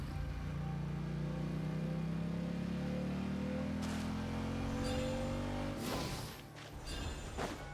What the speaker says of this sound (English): Movika, wir brauchen mal ganz kurz hier dein Motorrad.